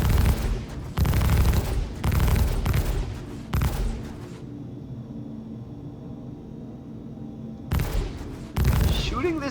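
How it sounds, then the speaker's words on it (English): Spaceship guns firing at a player in the Star Citizen video game, loud sustained bursts of rapid gunfire in several blocks, a quieter rumbling lull in the middle, then firing resumes. "Shooting this guy with a spaceship. That's literally what I'm doing."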